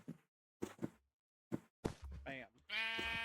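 A Minecraft sheep in the Cobblemon mod bleats, a wavering nasal cry near the end following a few soft thumps and brief sounds, all fairly faint.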